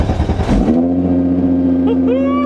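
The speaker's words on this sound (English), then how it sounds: "Uh-oh, I hear the sound of another VR6." A Volkswagen with a VR6 engine revs briefly, then settles into a steady, droning hum that carries on alone at moderate distance.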